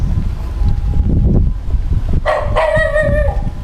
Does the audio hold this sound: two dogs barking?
yes